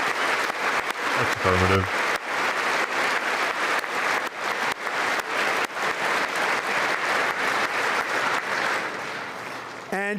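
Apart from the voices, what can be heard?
audience applause at State of the Union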